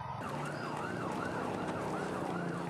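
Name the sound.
ambulance sirens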